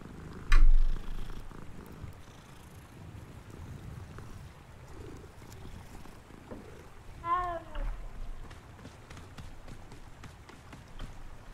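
A roadside cat in Hogwarts Legacy purrs and gives a short chirping mew, faint against steady outdoor game ambience with a sharp knock at the start.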